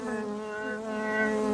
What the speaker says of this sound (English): bees are starting to come out